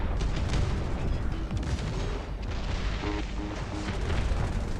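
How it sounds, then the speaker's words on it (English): Dull, rumbling booms from an incendiary bomb in a video game battle, a continuous low roar with scattered thuds and distant gunfire, steady and moderately loud with no talk. "Incendiary bomb."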